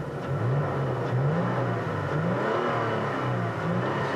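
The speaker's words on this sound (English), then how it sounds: "I'm hearing that TRD Sport exhaust, which definitely makes this V6 sound a lot better than the stock one" A Toyota Tacoma TRD Pro V6 with a TRD Sport exhaust idles and revs gently, a steady throaty engine drone with mild rises in pitch, continuous and fairly close.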